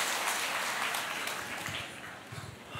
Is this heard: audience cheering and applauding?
yes